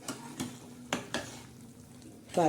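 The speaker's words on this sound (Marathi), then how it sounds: "आता आपली डाळ शिजत आहे" Mung dal simmers in a pot while a spoon stirs it in a few distinct scraping strokes, followed by a quiet stretch and a brief louder sound at the end.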